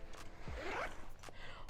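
A small zipper pocket on a travel pouch is pulled open in one quick, close rasping zip, with a few soft rustles and handling noises before and after.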